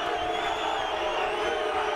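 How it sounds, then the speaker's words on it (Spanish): Dense crowd roar from a large boxing arena audience during the 2007 Juan Manuel Márquez vs Rocky Juárez fight, a steady, loud wash of booing and shouting voices with no pause across the moment. "Y ahí el abucheo"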